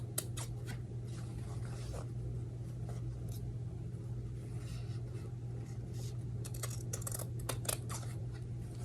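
Scissors trimming a quarter inch off a fabric seam allowance while sewing a flat felled seam, faint quick snipping cuts in bursts over a low steady hum, no talking.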